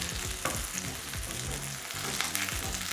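Potatoes browning in a hot pan give a steady, close sizzle and crackle of frying oil, with a few soft scraping stir sounds breaking through the continuous hiss.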